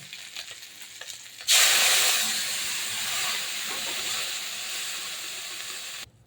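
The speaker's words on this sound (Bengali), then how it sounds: "দেখুন আমি জল দিয়ে দিয়েছি, মাছের টক হবে তো তাই একটু জল দিয়েছি।" Water poured into a hot pan of fried puti fish with cumin for a tamarind fish curry bursts into a loud, steady hissing sizzle that slowly eases over about four seconds, then cuts off.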